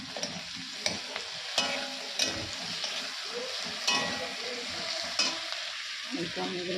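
Tomatoes fry in a pan while a spoon stirs them, giving a steady close sizzle with repeated sharp scraping clicks of the utensil against the pan.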